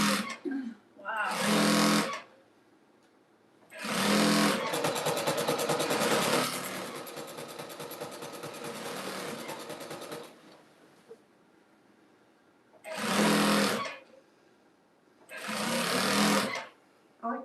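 A sewing machine runs in a long steady burst of fast stitching during a rug-making session, set between stretches of people talking nearby.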